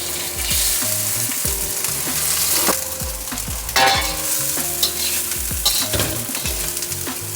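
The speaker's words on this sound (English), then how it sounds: "We're gonna add our rice here." Rice stir-fried in hot oil for Yangzhou fried rice gives off a loud, steady sizzle, broken by repeated clanks and scrapes of a spatula against the wok, close and continuous, with no voices.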